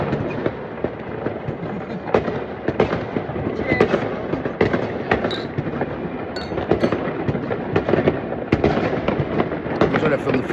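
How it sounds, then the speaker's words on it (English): Fireworks explode continuously on New Year's Eve in Holland, a dense barrage of sharp cracks and bangs ringing out near and far without pause, with some voices audible beneath the din. "That's when I filmed the fireworks, you know."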